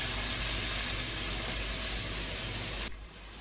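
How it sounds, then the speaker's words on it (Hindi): A tomato-onion paste with garlic, ginger and chilli sizzles in a pan for quail karahi with a dense, even hiss that drops sharply in level near the end. "और जो टमाटर और प्याज का पेस्ट बनाया था वो डालेंगे। अब इसी को भी अच्छी तरह भूनेंगे"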